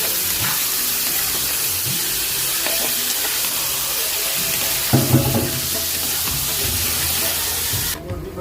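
Beef pocket shawarma filling being stirred and fried in a pan with soy sauce, a steady loud sizzle running throughout with scraping stir strokes and a few sharper clatters near the middle, some faint voices underneath.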